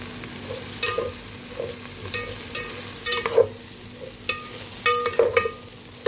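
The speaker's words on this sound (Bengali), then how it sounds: "ডালিয়াটা দিয়ে এটা সামান্য সামান্য ভেজে নেব।" Broken wheat (dalia) with a little sugar being fried and stirred in a pan, giving a soft steady sizzle broken by repeated scraping stirs and light clinks, with no talking.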